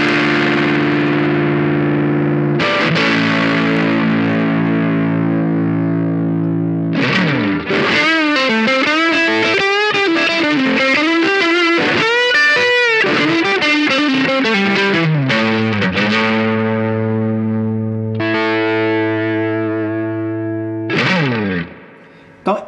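A fuzz-like electric guitar tone from a modded Boss DS-1 pedal rings out in long sustained chords and bending melodic runs, loud and near, fading into a final held note.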